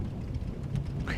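Thunderstorm in Microsoft Flight Simulator, with a low rumble of thunder and steady rain drumming around an aircraft, loud and continuous.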